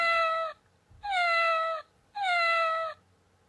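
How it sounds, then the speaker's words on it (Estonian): A startled cat gives three long, clear meows, close and fairly quiet, each a drawn-out tonal cry separated by brief pauses. "Kass ärkas ja kräunatas ehmunult."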